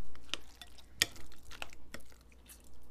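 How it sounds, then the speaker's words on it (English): Shredded carrots are stirred into yogurt in a bowl, giving soft, wet scraping and squelching taps, quiet and close, spaced irregularly over a few seconds. "Let's mix that in."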